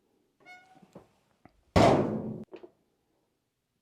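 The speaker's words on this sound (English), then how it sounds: "I could hear the camera banging around in there." A GoPro camera tumbles inside a washing machine running a hot-water cycle, giving one loud, broad thump-and-rattle burst lasting under a second, surrounded by a few faint knocks and taps in an otherwise quiet moment.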